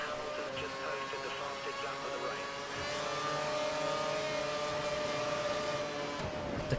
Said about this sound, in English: The car sounds like a rocket using DRS and curves at the same time.